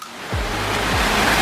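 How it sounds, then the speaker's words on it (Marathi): Monsoon waterfall gushing beside a trail on the Visapur Fort trek in the Sahyadri hills, a steady, broad roar of rushing water that holds close and loud for the whole moment with no voices. "पावसामुळे हा जलप्रपात धोधो वाहतो आहे"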